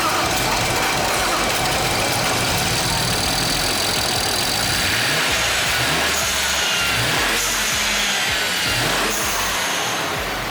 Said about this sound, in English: once we first turned on the car and revved it